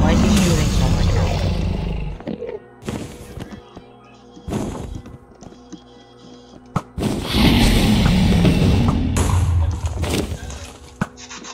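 The Ender Dragon in the block-building game Minecraft lets out deep, loud roars in two long bursts, with sharp crashing hits between them and a player talking over the action.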